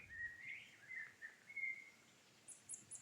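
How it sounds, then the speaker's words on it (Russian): Faint birdsong on a quiet summer evening in a Belarusian village: thin whistled calls drift from a distance, with a few short chirps near the end against a still background. "О, птицы. Птицы,"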